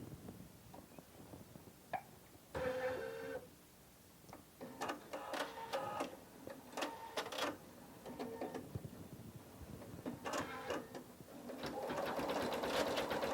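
A Husqvarna Viking Topaz 40 embroidery machine stitches a design on hooped fabric, with quick rattling bursts of needle strokes separated by short pauses and a steadier, busier run at the end, fairly quiet and without talk.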